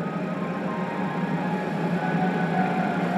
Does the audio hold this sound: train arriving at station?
yes